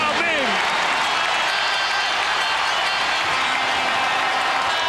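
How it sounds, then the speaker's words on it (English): Basketball arena crowd at the Toyota Center in Houston roaring and applauding during a 2004 Lakers at Rockets game, a loud continuous wash of cheers filling the whole stretch, with a brief whistle near the start. "The crowd in a frenzy here at the Toyota Center."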